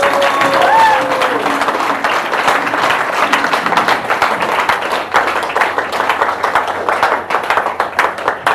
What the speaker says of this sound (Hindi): तो मैं चाहूँगी कि डीएक्शन प्लेटफॉर्म के लिए एक जबरदस्त ताली होनी चाहिए।